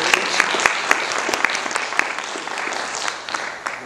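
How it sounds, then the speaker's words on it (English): Warm audience applause for candidates at a California Assembly District 18 forum, a loud, dense wash of clapping with a few sharp nearby claps standing out, tapering near the end. "Let's give them all a warm round of applause for their service."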